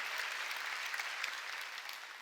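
Church congregation applauding during a Sunday worship service, a steady wash of many hands clapping for a couple of seconds, fairly distant and even, with no talk over it.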